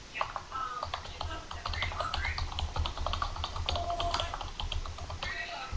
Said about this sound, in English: you type in your message